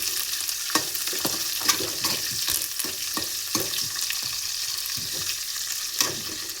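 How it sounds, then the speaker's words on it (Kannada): Green chillies with curry leaves frying in oil in a pan, a steady bright sizzle with sharp spits and crackles at irregular intervals throughout, close and alone with no talk. "ಹಾಗೆ ಹಸಿಮೆಣಸು. ಸೊ ಇದನ್ನು ಚೆನ್ನಾಗಿ ಫ್ರೈ ಮಾಡ್ಕೊಳ್ಳಿ."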